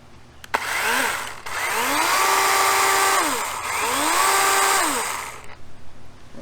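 DeWalt 20V Max XR cordless chainsaw revving loud and close in two long, rising and falling bursts with a brief start before them, no talking.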